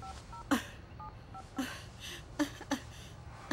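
Buttons on a landline telephone in a home are pressed one at a time, leaving short, separate tones with irregular pauses between them, quiet and close against a hushed room.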